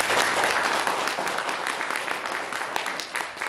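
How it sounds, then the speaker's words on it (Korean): An audience claps to welcome a Buddhist monk speaker at a lecture held at Magoksa temple, a full wash of applause that is loudest at the start and gradually tapers off. "큰 박수로 모시겠습니다."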